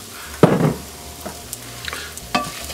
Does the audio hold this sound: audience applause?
no